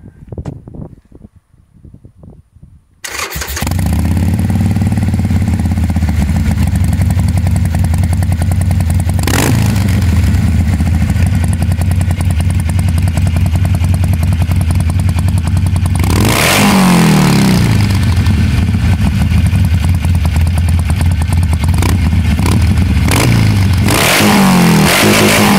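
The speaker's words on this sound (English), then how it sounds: "I'll give you guys a listen to that exhaust in case you haven't heard it." After a few quiet seconds a 2016 Harley-Davidson Forty-Eight with an aftermarket exhaust starts up and idles loudly, its exhaust rumbling steadily, with a couple of sharp revs rising and falling.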